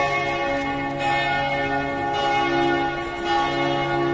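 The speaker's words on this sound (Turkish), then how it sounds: "saat 12 olunca öyle uzun uzun çan sesleri çalıyor" Church bells in Budapest ringing continuously at noon, with rich sustained tones and overlapping resonant strikes, steady and loud throughout with no talking.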